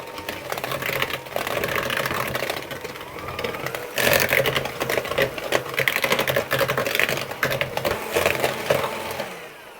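An electric mixer beats eggs and a yolk into cupcake batter for a Christmas cake recipe, giving a steady whirring buzz that grows louder about midway and then carries on close by with rattling bursts.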